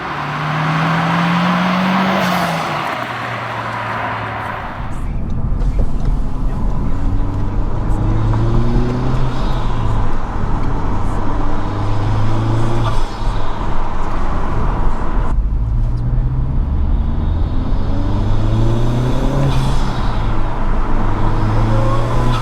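A Honda Civic Type R fitted with a PRL intake and titanium inlet pipe accelerates hard, the engine rising through gears with a rising turbo whistle and whooshing spool, loud and close as it pulls past.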